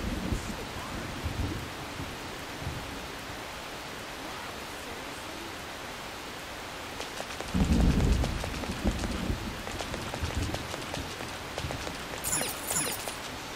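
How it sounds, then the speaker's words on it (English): Heavy rain with rolling thunder in the video game Persona 5 Royal, a steady wash of downpour with a deep thunder rumble swelling midway and a faint brighter burst near the end. "This rain is intense."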